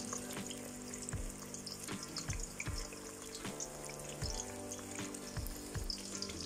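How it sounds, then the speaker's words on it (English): Slices of eggplant fry in a pan with a steady, close sizzle, broken by scattered pops and a few light clinks of a utensil against the pan. "eggplant now in the pan."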